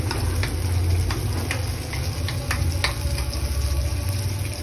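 Ginger and garlic frying in a pan give a steady, close sizzle, with occasional light clicks and taps from stirring, and no talking.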